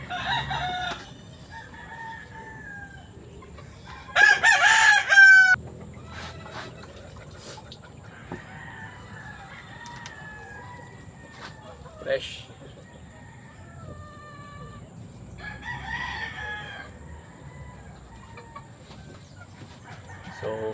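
Eight-month-old rooster crowing in a backyard flock, one loud crow standing out among fainter clucks and calls from nearby fowl, with quieter crows later.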